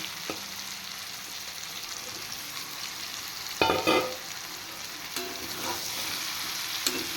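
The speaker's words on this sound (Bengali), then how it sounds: "এবার ভিন্ডি দিয়ে আরেকটু ফ্রাই করে নেব" Okra and mixed vegetables frying in a pan give a steady sizzle. Sharper clinks and scrapes of stirring stand out near the middle and end.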